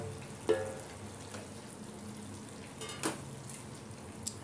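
Onions hit a pan of paneer gravy and fry, a steady close sizzle running throughout with a couple of sharper scrapes and clinks of stirring.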